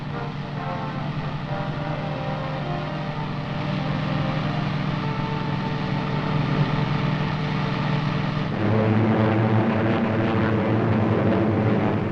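Massed WWII Allied bomber aircraft drone overhead on a bombing raid, a loud continuous layered engine roar that holds steady and shifts slightly in pitch partway through.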